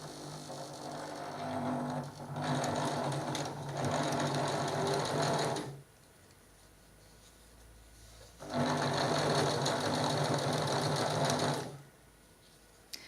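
A sewing machine stitches a French seam in fine fabric, running in two long steady bursts of rapid mechanical whirring separated by a quiet pause, close and loud.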